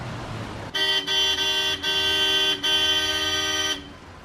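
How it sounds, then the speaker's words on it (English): A very loud vehicle horn on a Delhi street blares in several long, harsh blasts separated by brief gaps, close and dominant over the low traffic rumble. "He is going to give us a demonstration of a horn which is really, really, really loud."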